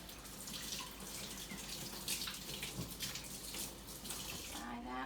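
A kitchen tap runs steadily to rinse a metal tablespoon, with a constant close hiss and splash of water that shifts slightly as the spoon moves under the stream.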